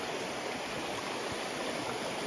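A river flows steadily in the wild, a dense, even rush of water with no breaks, fairly soft and continuous throughout.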